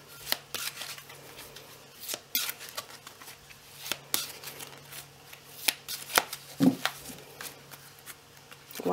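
Soft riffling and flicking of tarot cards being shuffled by hand, irregular bursts of papery patter up close, with no talking.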